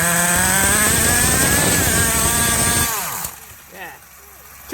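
A hand-modified .21 nitro engine screams at high revs as more fuel is fed in, a loud, rising buzz that holds for about three seconds. It then cuts abruptly to a quieter, sputtering idle.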